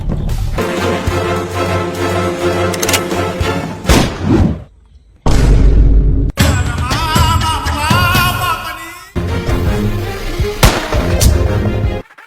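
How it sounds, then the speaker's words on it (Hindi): Heavy gunfire and explosive thumps from a shooting video game, loud and almost continuous across the stretch with a couple of brief lulls, dense bursts layered over game sound. "पड़ गई ठाकुर की गांड पे गोली, भागो।"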